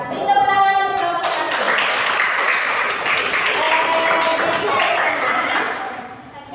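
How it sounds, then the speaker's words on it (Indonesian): Classroom applause for a teacher in an Indonesian Grade 3 class, a steady wash of small hands clapping close by for several seconds, with children's voices mixed in and fading at the end. "Beri tepuk tangan untuk Bapak"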